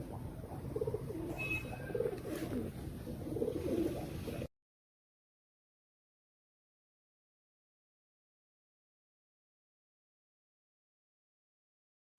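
Indian Rampuri pigeons cooing in a loft, soft low coos repeating over about four seconds, close but faint, followed by silence.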